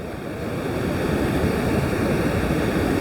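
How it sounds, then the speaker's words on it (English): Aqua ocean waves wash in as a constant, loud rumbling roar that swells slightly at the start and then holds steady, with a faint hiss of wind and no voices. "I'm leaving you with the waves."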